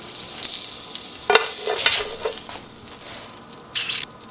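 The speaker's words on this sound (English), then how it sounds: "Bringing my sizzling Weens over." Hot dogs sizzle and spit in a hot pan, with intermittent crackling bursts and a few scraping stirs, no talking.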